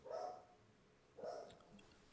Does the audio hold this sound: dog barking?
yes